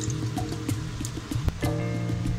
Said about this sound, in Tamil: இப்போ வந்து கோக்னட் மில்க்கு சேர்த்துக்கலாம்.